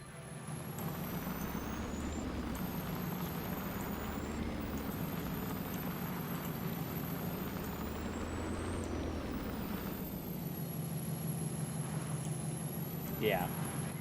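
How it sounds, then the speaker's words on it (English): A modded truck in a farming game rumbles with a steady, droning engine. A few air-brake hisses break through, and a voice is heard faintly in places. "Pretty nice truck. I like it a lot. Pretty nice mod."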